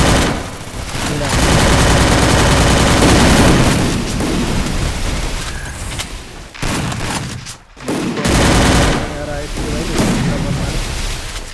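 Rapid bursts of loud gunfire in the game Garena Free Fire, from an MP40, a shotgun and an M10 during a squad rush, dense and continuous with a brief gap midway, with excited commentary over the top.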